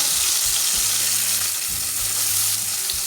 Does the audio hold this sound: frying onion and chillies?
yes